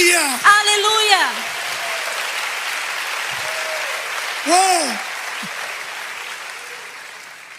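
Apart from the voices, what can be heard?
congregation applauding in church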